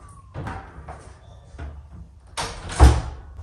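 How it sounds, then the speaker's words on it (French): Apartment front door handled nearby, with a few soft thuds and rustles before a louder, sharper bang toward the end as it shuts, in a quiet room with faint voice-like sounds. "Juste là, t'as la porte d'entrée."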